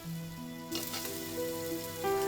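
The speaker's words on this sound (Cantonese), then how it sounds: "煎至金黃嘅紅衫魚" Red snapper pan-frying until golden: a steady oily sizzle and crackle under a sustained background music tone, with the sizzle swelling louder partway through and no voices.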